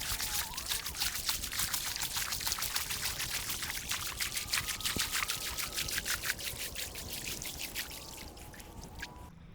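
A person wades into a grassy lake to fish for redfin, with steady trickling and sloshing water up close and continuous splashing as they move through it.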